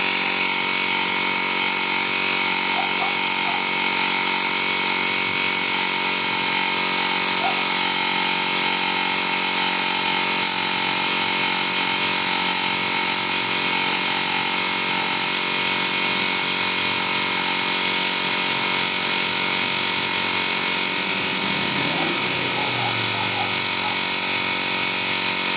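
Portable wireless tire inflator air pump running without a break, a loud steady mechanical drone with a high motor whine and buzzing overtones, heard close and alone.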